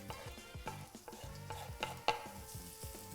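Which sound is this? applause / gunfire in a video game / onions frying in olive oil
onions frying in olive oil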